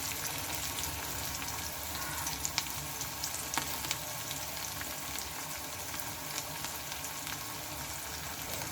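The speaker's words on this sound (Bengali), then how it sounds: "এগুলোকে এখন একটু ভেজে নিতে হবে হালকা করে এটা ভেজে নিতে হবে" Chopped garlic fries in oil with a steady, even sizzle and crackle, close and continuous throughout, broken by a few faint clinks.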